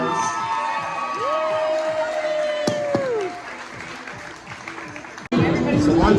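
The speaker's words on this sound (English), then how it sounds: "So everybody give Brandon a round of applause." Crowd applause and cheering at a Cedar Point amusement park ride, loud and steady with whoops and children's shouts mixed in, running alongside a whistle-like tone, then a sudden louder burst near the end.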